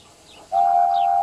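Steam engine whistle sounding a single loud, sustained steady tone that starts abruptly and holds to the end, with faint background noise before it.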